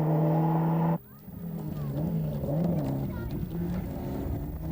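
A rally car on rough surfaces at the 1995 Dutch International Rally near Eindhoven holds a loud, steady engine note for about a second, which then cuts off abruptly into fainter rumbling and road noise.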